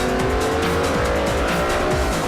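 Race cars driven hard through a corner on Montserrat's Camino Viejo hill road in Forza, with an Audi R8 among them: loud continuous engine drone and rising revs with tire squeal, steady throughout and without talk.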